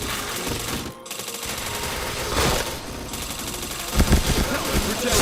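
Gunfire from a shooter video game during an online squad match, with sharp shot bursts and rattling volleys running steadily through the clip under game noise and background chatter.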